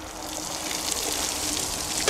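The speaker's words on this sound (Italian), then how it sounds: "Vado a scolare la pasta." Cooked pasta water pours out as spaghetti is drained for carbonara, a steady broadband splashing gush that holds at an even, close level for the full stretch with no voices.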